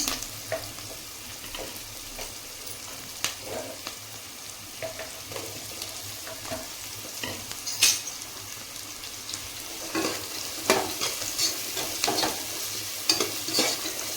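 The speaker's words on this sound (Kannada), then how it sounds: "ಟೊಮೆಟೊ ಹಣ್ಣು ಹಾಕ್ತೀನಿ." Chopped tomato fries in a pan with a continuous sizzle while a spoon stirs and scrapes in repeated sharp clicks and knocks against the metal, close and clear with no voices.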